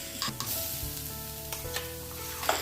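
Ground masala paste sautéed in a pan as filling for stuffed capsicum gives a steady, close sizzle with scraping stir strokes throughout, and no talking.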